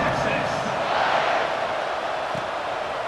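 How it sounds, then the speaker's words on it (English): A stadium crowd buzzes in the EA Sports College Football 26 video game, a dense continuous roar of cheering that stays steady and loud for the whole stretch. "this crowd is buzzing after that last score"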